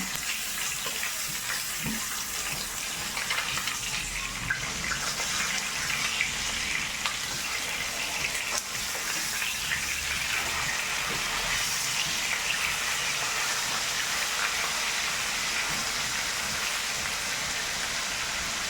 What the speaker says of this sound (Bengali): মাছটা আমার এক পাশ ভেজে নেওয়া হয়ে গিয়েছে। এখন আমি উল্টিয়ে আরেক পাশ ভেজে নিচ্ছি।